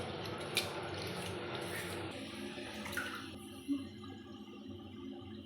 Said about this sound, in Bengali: ভালোভাবে চালটা কচলিয়ে কচলিয়ে ধুয়ে নেব